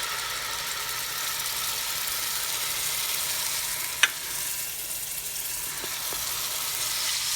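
Oyster sauce hits sautéing garlic in a hot pan, giving a continuous loud sizzle with one sharp clink partway through and faint scrapes after it.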